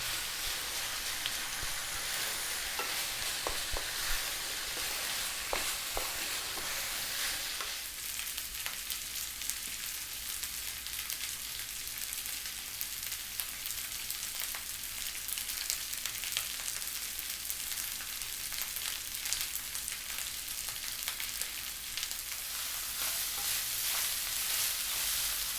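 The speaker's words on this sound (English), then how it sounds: "We're going to go still on a high heat for about 4 or 5 minutes, stirring pretty much all the time." Thai sausage and holy basil fried rice stir-fried on high heat, a steady loud sizzle with frequent scraping and tossing clicks running throughout, no talk.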